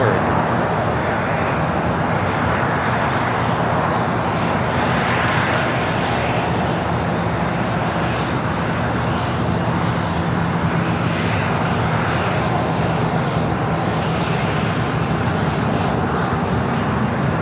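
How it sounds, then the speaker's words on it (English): Boeing 787-10 Dreamliner arriving at Los Angeles airport, a steady loud jet engine roar sustained throughout, with faint radio chatter beneath. "That's that Dreamliner, 787-10 Dreamliner coming in from Newark."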